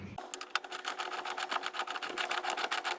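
A quarter-inch ratchet turns during a Toyota Sienna power steering pump replacement, producing a fast, even run of close, crisp clicks for about three seconds.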